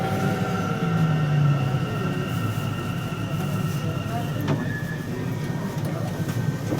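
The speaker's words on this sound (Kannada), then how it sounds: "ಮೆಟ್ರೋನು ಬಂತು." A metro train pulls into a station with a steady, loud rolling rumble and a thin metallic whine, and voices murmur in the background.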